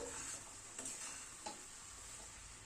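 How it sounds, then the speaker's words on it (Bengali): Boiled peas fried with spices in a pan, a faint steady sizzle broken by a few soft scraping stirs, close by and quiet. "মটরটাকে আবার মশলার সাথে একটু কষিয়ে নিলাম"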